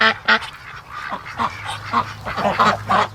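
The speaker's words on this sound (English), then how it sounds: "So I wanted to just give you a shot of those crazy ducks right there." A flock of ducks quacking and honking repeatedly in loud, close, irregular bursts, with a low steady hum running underneath.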